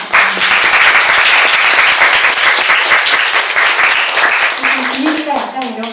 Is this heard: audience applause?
yes